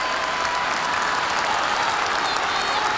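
Continuous crowd applause and cheering fills a soccer video game, All Star Soccer, during a UEFA Cup match between Tottenham and Bayern Munich, holding steady and loud for the whole stretch with no pauses.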